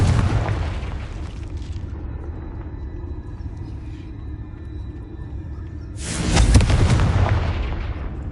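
A Confringo fire spell from Hogwarts Legacy bursts with a loud, deep booming blast near the end, preceded by a sustained low rumbling game ambience with no speech.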